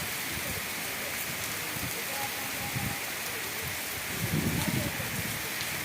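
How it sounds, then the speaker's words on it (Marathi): Heavy afternoon rain pours steadily onto a roof and a tiled floor, a dense and continuous roar that swells briefly near the end. "लय जोरात पाऊस आला, डायरेक्ट पाणी पडायला लागले वरून."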